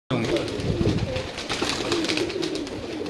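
Pigeons raised for the season coo and flutter on a rooftop loft in Kasur. Someone talks over the soft, continuous bird sounds.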